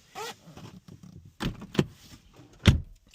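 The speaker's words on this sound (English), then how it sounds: "I'm going to cut the car off completely, open the door." A BMW car door opens with a few sharp latch clicks and thumps spread over a few seconds against a quiet background.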